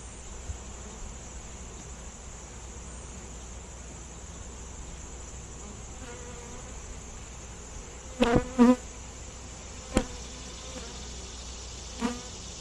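A steady, soft buzz of many bees around a hive fills the air continuously, with a few brief knocks and clicks breaking through.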